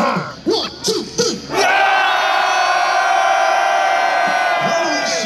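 A few scattered shouts break out, then a large crowd at a concert at Goffertpark, Nijmegen erupts into a loud, sustained roar of cheering and yelling.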